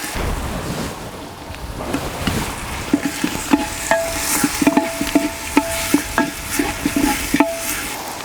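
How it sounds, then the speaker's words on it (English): Onions are stirred in a clay pot over an outdoor fire, with a spoon scraping the pot in a steady series of close, rhythmic strokes and a soft sizzle underneath. "Give the onions a little bit of mix."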